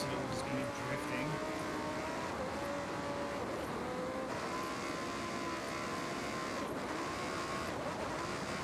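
Car engine in Forza Horizon 6 revving steadily while drifting, a continuous loud droning tone with shifting pitch and tire noise throughout, no talk.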